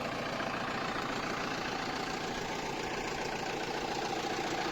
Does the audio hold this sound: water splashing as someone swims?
no